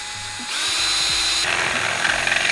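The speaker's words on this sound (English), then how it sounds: "We're drilling holes here just to run the wires for the actual RGBs." A power drill whirs loudly and steadily, biting through material with shifting pitch as it drills holes for headlight wiring on a 12v Cummins dually truck, close by, with no talking.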